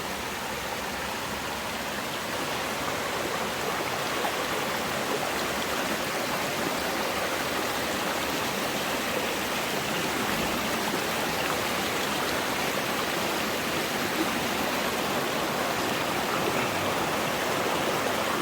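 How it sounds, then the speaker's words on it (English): Mountain stream at a water crossing near Elkmont in the Great Smoky Mountains, a continuous broadband rush of flowing water that stays close and steady throughout with no voices. "looks like we're coming up to a little water crossing"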